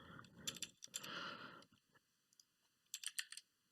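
Typing on a computer keyboard, a quick faint run of key clicks, a brief pause, then another short burst of taps, close and quiet with no talk.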